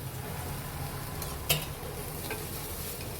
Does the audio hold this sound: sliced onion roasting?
yes